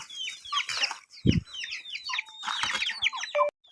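Chickens cluck and chatter busily on a rural farm, with overlapping calls from several birds and a brief low thump, close and fairly loud with no talking.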